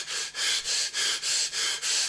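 A person takes a rapid series of quick, sharp breaths, about seven short sniffing gasps in a steady rhythm, close to the microphone and loud with no talking.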